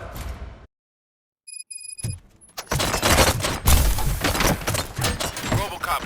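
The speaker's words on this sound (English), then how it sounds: "Gunshots?" Gunfire in the video game RoboCop: Rogue City, a dense, loud burst of rapid shots and impacts that starts after a brief silence and chimes, then continues steadily to the end.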